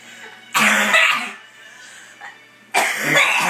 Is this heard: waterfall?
no